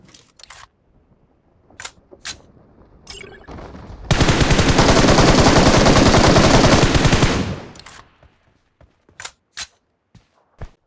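Rapid automatic gunfire in a solo-versus-squad battle royale video game: one loud, continuous burst lasting about three seconds, framed by sparse clicks and quiet gaps.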